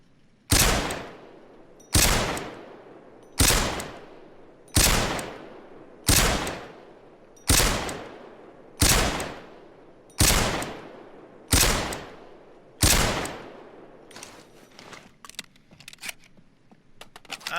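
WA2000 sniper rifle, a Lebensauger .308, firing in Payday 2: nine loud, sharp shots evenly spaced about every one and a half seconds, each with a decaying tail, followed by softer clattering handling noises.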